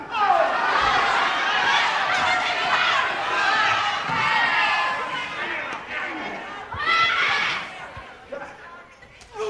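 A large wrestling arena crowd chants in unison in a rhythmic count, a dense roar of voices that swells and dips, with a commentator talking over it.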